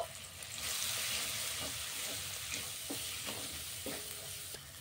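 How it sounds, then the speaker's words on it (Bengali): Spices and gram flour frying in oil for masala bhindi, a steady close sizzle with a spoon scraping and stirring through the pan in a loose rhythm, no talking. "দিয়ে ভালো করে আমি মশলাটা কষিয়ে নেব।"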